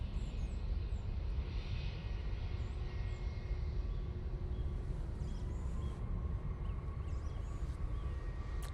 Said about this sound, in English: you can now see that Qatar making its way out towards us